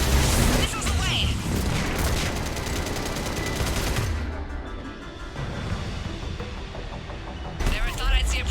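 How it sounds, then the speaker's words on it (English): Missile salvo explosions in the Mass Effect Legendary Edition video game, a dense roar of blasts and rapid bursts that fades slightly midway before surging again, with voices speaking over parts of it. "Missiles away!"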